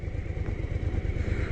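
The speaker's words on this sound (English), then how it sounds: "I'm going to be taking this motorcycle, Suzuki SV1000, on the freeway over here." A Suzuki SV1000 motorcycle engine runs steadily nearby with a low, pulsing rumble throughout, no voices over it.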